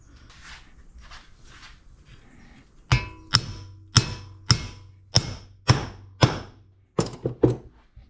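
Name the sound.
hammering a 27mm socket to drive out a Yamaha Rhino wheel bearing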